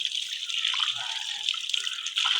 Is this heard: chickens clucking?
no